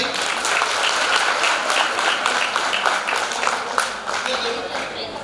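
An audience applauds a retiring headmistress at her retirement felicitation ceremony, a dense, sustained round of many hands clapping at moderate distance, continuing evenly for the whole stretch with voices mixed faintly underneath.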